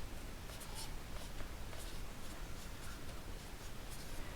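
Chalk or marker writing on a board during a machine learning lesson, faint continuous scratchy strokes under a broad, steady hiss with no speech.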